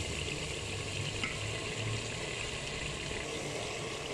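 Water is added to chickpea curry masala in a pan and stirred in, giving a steady wet sizzle and soft bubbling that stays even and close throughout, with no voices.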